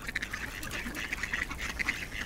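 Ducks quacking on ice on a cold day, a steady series of quick, fairly faint quacks over an outdoor background.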